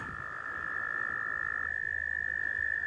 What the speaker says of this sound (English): Ooh, there's a frog, a couple frogs over there.